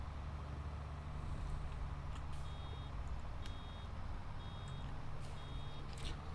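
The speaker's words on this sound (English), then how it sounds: "Everyone will have that beeper stuck in their dreams tonight." Repeated reversing beeper on a vehicle in Farming Simulator 22, evenly spaced high beeps over a steady low engine rumble, moderately faint and without talk.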